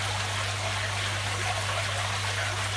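Water flows steadily in a grow-on system, pushed along by an air stone bubbling underneath, giving a constant close trickling wash over a low, even hum.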